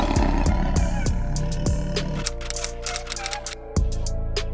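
Someone unboxes a MacBook Pro 16-inch, and its packaging gives close, scattered clicks and taps over a steady low hum, with a sharper knock near the end.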